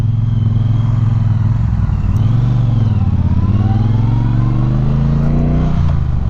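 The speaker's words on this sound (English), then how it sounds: "even at stop here, you've got a nice sound of the exhaust" A 2018 Triumph Bonneville Speedmaster motorcycle idles at a stop, its exhaust giving a steady, loud, low rumble with slight rises in pitch, close and continuous with no talk.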